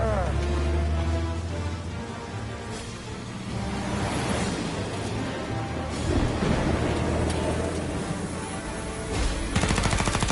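A gunfight in 1930s-style gangster action plays out with loud, dense bursts of gunfire and heavy blasts throughout, layered over rumbling background noise.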